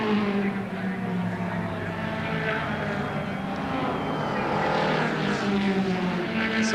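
The Schnitzer 3-sport Castrol BMW M3 E30 Sport Evo DTM race car, number 1, at the 1991 Nissan Mobil 500 in Wellington, drones steadily nearby with a sustained engine roar throughout.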